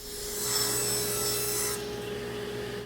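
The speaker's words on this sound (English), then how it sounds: "Now I'm making this from 3/4 inch plywood, and I'm starting off by cutting 3 pieces, all at 15 inches" A power saw cuts through 3/4 inch plywood pieces, a steady close whine with a constant tone and rasping wood noise that drops away near the end.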